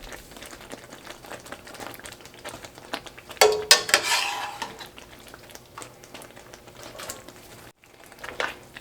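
Spaghetti is stirred in a pot at home, with a soft, steady scraping and patter running throughout and a louder burst of stirring in the middle.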